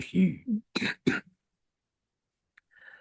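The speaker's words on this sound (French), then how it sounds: "excusez-moi, je tousse encore" A couple of short, rough throat-clearing coughs up close, followed by silence and a faint rustle at the end.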